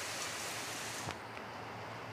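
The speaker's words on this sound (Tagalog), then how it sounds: "medyo kusog ang ulan" Heavy rain falling as a steady, dense hiss that fills the whole clip evenly, loud and continuous with no talking.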